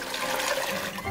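Cold water poured quickly into a pot of paprika soup base for Hungarian soup, a loud continuous rushing gush close up for about a second, with no talking.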